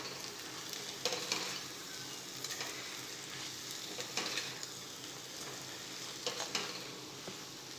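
Poha with peas being stirred in a pan, a steady low sizzle with scraping and clinking of the spoon at intervals, no voices.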